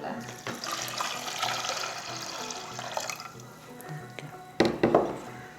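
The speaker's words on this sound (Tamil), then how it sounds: "2 கப் தண்ணி ஊற்றுறோம்ல." Two cups of water poured onto toor dal in a pot, a steady splashing stream running for a few seconds, then a brief louder slosh near the end, heard close up.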